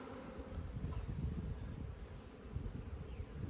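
Honeybees buzzing at an open beehive during an inspection, a steady, dense low drone of many wings that holds evenly throughout without any voices.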